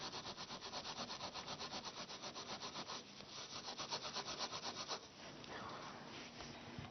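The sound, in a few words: wire wool rubbing a copper coin clean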